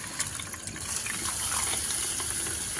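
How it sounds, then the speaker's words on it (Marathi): Liquid pours and trickles steadily, a soft continuous gush of thick coconut milk being wrung out of grated coconut, close by with no talk. "त्याच्या आतलं पाणी काढून घ्यायचं म्हणजे नारळाचं दूध काढून घ्यायचं"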